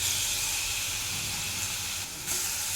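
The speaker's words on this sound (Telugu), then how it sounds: "ఈ పేస్ట్ను ఇందులో ఈ ఆయిల్లో వేసేసుకోవాలి" Hot oil sizzles with a steady, loud hiss as a ground paste of onion, garlic, cumin, mint and coriander is added, the frying noise continuing without pause and briefly dipping near the end.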